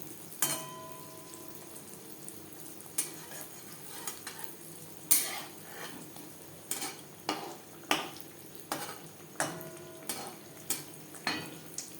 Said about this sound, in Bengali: এভাবে উল্টে পাল্টে সুন্দর একটা কালার আসা পর্যন্ত ভেজে নেব